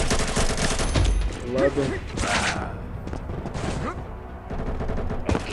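Rapid bursts of automatic gunfire from a mobile shooter game, Call of Duty Mobile or Combat Masters, crackling in dense volleys with a few pauses while a player talks over the shooting.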